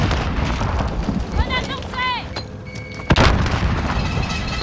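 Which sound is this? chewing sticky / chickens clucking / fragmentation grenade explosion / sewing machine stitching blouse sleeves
fragmentation grenade explosion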